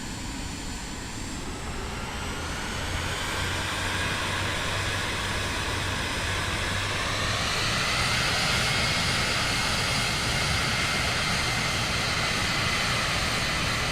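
A small single-engine plane taxiing in Microsoft Flight Simulator 2024, with a steady droning engine and broad wash of noise that holds loud and even throughout, the pitch rising slightly partway through, with no voices.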